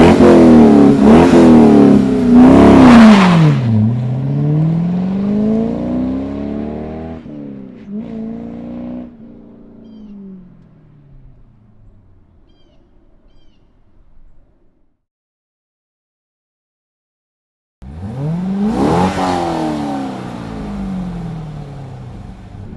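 A C5 Corvette with a Mid America Quadrapower exhaust barks through loud, close revs that rise and fall, then idles down and fades to near silence. A final sharp rev bursts out near the end.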